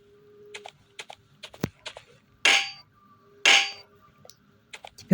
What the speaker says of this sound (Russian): Все, у нас кувалда. Мы сейчас его разносим вот так.